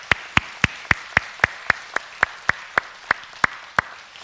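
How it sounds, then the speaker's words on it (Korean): A church congregation claps together in praise during a Sunday service: about fourteen crisp claps in a steady, evenly spaced rhythm, each one sharp and distinct against a quiet room. "우리 하나님께 영광의 박수 올리겠습니다"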